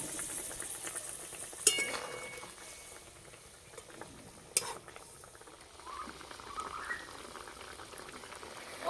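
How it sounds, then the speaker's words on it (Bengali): Curry broth simmering at a steady low bubble with fried eggs dropped in, quiet and continuous, broken by a couple of sharp utensil clinks. "ঝোল ফুটে গেছে, ভেজে রাখা ডিম দিয়ে দেব।"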